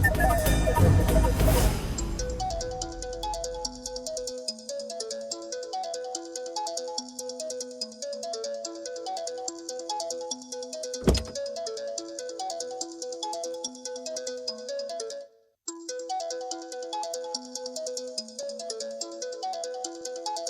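A mobile phone ringtone plays a repeating electronic melody for about twenty seconds, cutting out briefly near the end before resuming.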